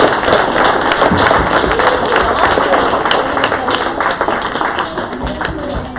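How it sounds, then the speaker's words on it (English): Audience applause after a school talk at Colegio Cardenal Newman: dense, steady clapping from many hands filling the room, loud and continuous with faint voices mixed in. "I think that Martina deserves a very big clap"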